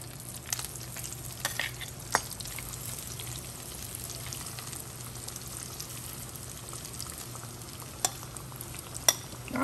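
Chicken pieces deep-frying in hot oil for a second fry, a soft steady sizzle with occasional small pops and clicks, faint and continuous with no talking.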